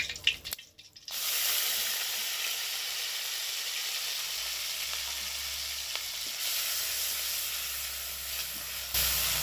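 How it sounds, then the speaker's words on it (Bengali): Ground onion paste sizzles steadily in hot oil with whole garam masala, cinnamon and green cardamom, cooking for a Bengali doi katla fish curry; a loud, continuous frying hiss begins after a brief quiet moment and carries on with no talk. "পেঁয়াজটা একটু ভালো করে ভেজে নিতে হবে"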